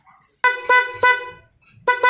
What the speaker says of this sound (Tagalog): Ito yung tunog ng busina.